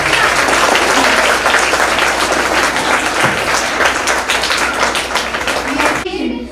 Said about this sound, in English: please join us in a warm round of applause as we welcome Mrs. Prasanna Madam, Principal of Phoenix International Group of Schools